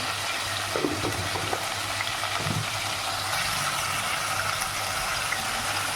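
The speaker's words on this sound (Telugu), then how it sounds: "పావు టీ స్పూన్ పసుపు వేసుకొని ఫ్రై చేసుకోవాలి ముక్కలు బాగా" Chicken pieces with salt and turmeric fry in hot oil for chicken rasam, making a steady, close sizzling hiss with a few soft knocks and no break.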